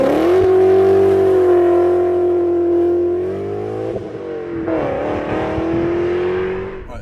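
BMW E39 M5 V8 with its exhaust backbox deleted rumbles at a deep, steady idle up close, then blips into two short revs that rise and settle back down.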